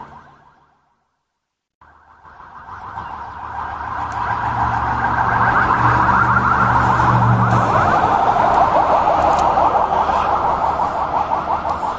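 An ambulance siren wails as the vehicle passes through Dhayra, a town in southern Lebanon near Tyre, swelling from quiet to loud and holding for several seconds with a steady warbling pattern and engine rumble, with no talking.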